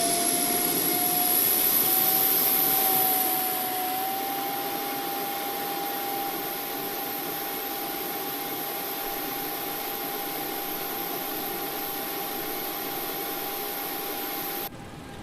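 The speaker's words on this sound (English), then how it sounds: "So the APU is spooling." A simulated airliner's auxiliary power unit spools up in the flight simulator X-Plane 11, a whining jet tone rising in pitch and then holding steady over a constant broad roar, heard as if from outside the aircraft.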